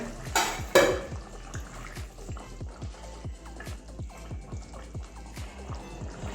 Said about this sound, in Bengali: এবারে ঢাকনাটা খুলে নিচ্ছি আলুটা কতটা সিদ্ধ হয়েছে